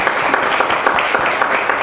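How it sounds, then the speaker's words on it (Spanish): Applause from an audience at a transparency forum held at a university, a dense, steady wash of clapping lasting under two seconds with a faint voice mixed in. "Fuerte aplauso."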